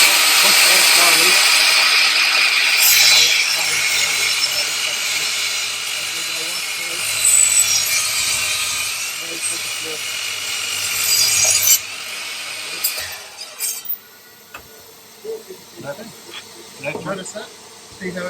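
A mitre saw cuts through timber in a shed workshop, with a loud, steady buzzing whine across the first twelve seconds before it cuts off; talk and knocks follow.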